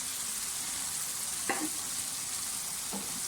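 White beans (lobia) drop into a pan of sizzling fried masala, a steady frying hiss broken by two short stirring or pouring bursts, close and alone with no talking.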